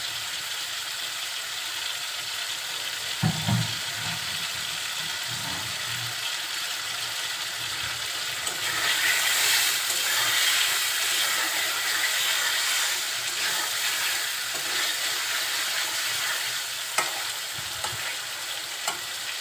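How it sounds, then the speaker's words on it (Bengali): Shing fish sautéed with spices in a pan, a steady close sizzle with occasional stirring knocks and a louder hissing surge midway, no voices. "মাছগুলো মশলার সাথে একটু কষিয়ে নিব।"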